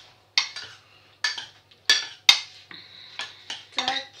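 A utensil stirs mac and cheese ingredients in a dish, making a series of close, sharp scraping clinks at an irregular rhythm, around eight strokes, with quiet pauses between them.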